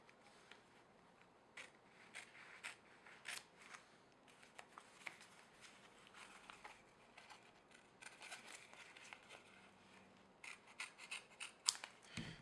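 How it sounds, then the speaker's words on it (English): Soft, close snipping and rustling as scissors cut a patch from fabric repair tape, irregular small cuts over quiet background. "we'll take our fabric tape and we'll measure it out on our hole here, and we're just gonna cut it out"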